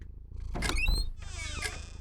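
A slow creaking of door hinges in a scary story, two drawn-out squeaky strains that are close and fairly loud over a low rumbling background.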